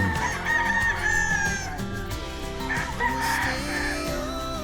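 Several road stag roosters at a game farm crow loudly and nearby, their calls overlapping in repeated bursts with some clucking mixed in and no speech.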